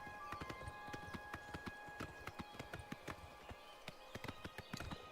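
Hooves of a horse in a fantasy role-playing game clop in a quick, steady galloping rhythm, crisp and close, with no one talking over them.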